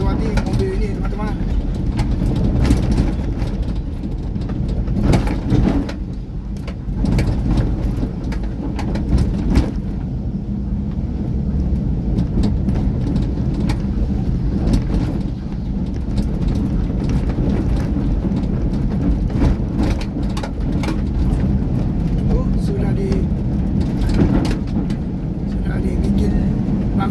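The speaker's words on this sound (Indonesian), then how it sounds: "Ya, kita lewati mobil ini" A car passes along a dusty dirt road in Sekadau Regency, its engine and tire rumble a steady, fairly loud wash throughout, with someone talking over it.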